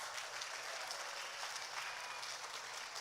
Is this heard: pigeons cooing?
no